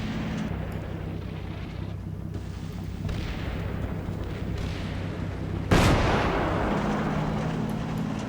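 Artillery fire in the Cold War video game Combat Mission, US forces in 1972: a sustained rumbling barrage with low booms throughout, then a sudden loud blast near the end that leaves a heavy roar, no voices.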